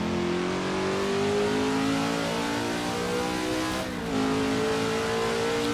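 A 1967 South African Grand Prix race car in a driving game revs steadily in third gear, its engine pitch climbing to around 8,000 RPM before a brief dip at a gear shift, then rising again, loud and continuous.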